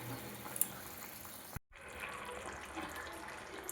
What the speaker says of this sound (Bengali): খুব ভালো মতো ফুটে গেছে, আঁচ কমিয়ে কিছুক্ষণ রেখে দেবো।